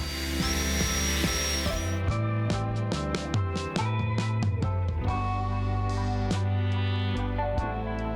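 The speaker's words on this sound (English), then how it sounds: "Then I need to drill access holes for the cable" A power drill boring cable access holes in wood for a turntable whines steadily for a few seconds, then stops and restarts in short bursts with clicks and knocks, close by.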